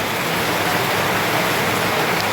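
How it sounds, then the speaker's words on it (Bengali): Torrential rain pounding down during a storm in Basirhat, North 24 Parganas, near a roofed fruit stall, a dense, loud, unbroken roar with no voices. "মুসুলধারায় বৃষ্টি হচ্ছে"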